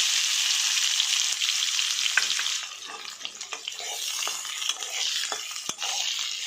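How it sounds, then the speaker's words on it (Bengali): Chopped onion sizzles in a hot pan of oil with whole cumin and cardamom, a bright continuous frying hiss with occasional utensil clicks and scrapes, nearby and unaccompanied by talk. "এবার আমি পেঁয়াজ কুচিটি দিয়ে দিচ্ছি।"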